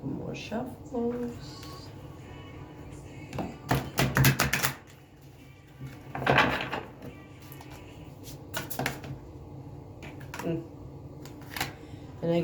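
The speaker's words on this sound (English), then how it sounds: "Couple more shuffles." A deck of tarot cards is shuffled by hand in a few quiet bursts of crisp riffling and slapping, separated by pauses, with a person speaking softly between them.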